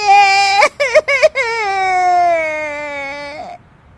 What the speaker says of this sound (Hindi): उसकी रोने की आवाज सुनकर सभी वहां आ जाते हैं।